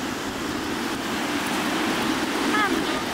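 Ocean surf washing onto a shoreline, a steady broadband wash with some wind noise that holds at an even level throughout, while people speak faintly in the background.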